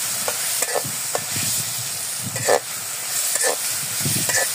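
Crabs fry in a pot outdoors, a loud sizzling hiss broken by repeated scraping stirs and clattering strokes of a spatula.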